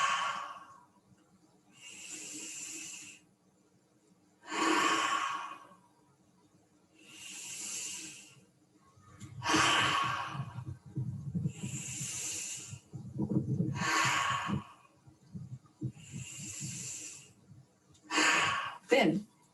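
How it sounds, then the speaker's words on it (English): Repeated deep breaths, drawn in through the nose and pushed out through the mouth during a floor exercise with lifted body and legs, about eight airy whooshes in a steady slow rhythm, close and clear, with no talking. "you take very deep breaths in through your nose and out through your mouth about 6 times"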